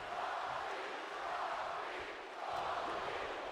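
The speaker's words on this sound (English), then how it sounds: "a huge Rocky chant here from this crowd" Large arena crowd in the WWE 2K25 video game chanting in a loud, steady rhythmic swell that surges and dips in repeating waves.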